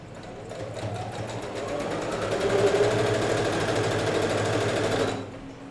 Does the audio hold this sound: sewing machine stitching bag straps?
yes